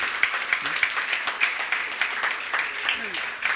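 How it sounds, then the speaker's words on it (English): Audience applause for a concert production team at a moderated talk event, a moderate steady patter of clapping with faint voices underneath. "once again you must put a round of applause for Arun and Heart and Soul Productions"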